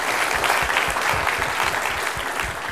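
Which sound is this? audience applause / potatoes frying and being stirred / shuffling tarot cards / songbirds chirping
audience applause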